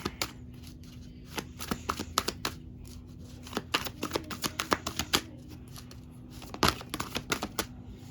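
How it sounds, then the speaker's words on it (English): A deck of cards is shuffled by hand nearby, making sharp papery riffles and quick flicking snaps in irregular clusters, fairly quiet overall with no talking. "Wait, I want to shuffle again because I didn't really get to shuffle there."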